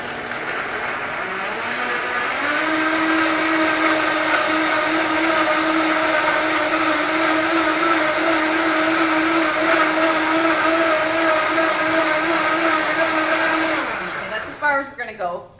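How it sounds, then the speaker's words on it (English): A blender whirs loudly and steadily with a rising then level motor whine, cutting out near the end with a few rattling spins down. "Turn on the blender."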